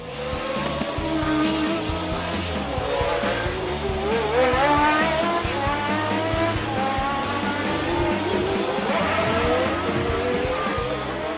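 Formula 1 cars, a Toleman among them, race through Paddock Hill at Brands Hatch, engines screaming and rising and falling through the corner, several cars overlapping loudly with a faint commentary voice underneath.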